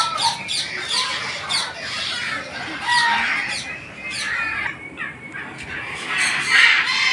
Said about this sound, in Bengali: ছোট ছোট মুরগি আছে, সুন্দর লাগে।